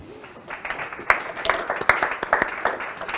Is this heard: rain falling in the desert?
no